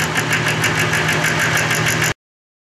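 A Clausing horizontal milling machine runs under power feed, a Woodruff cutter cutting a straight keyseat, giving a loud, steady mechanical drone with a regular rhythmic pulsing before it cuts off abruptly.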